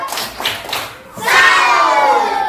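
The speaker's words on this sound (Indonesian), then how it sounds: "Kasih lagi tepuk salut untuk dia" An audience in an Indonesian class or session gives a salute clap. A few quick bursts of claps come first, then a louder swell of clapping and cheering voices that fades slowly.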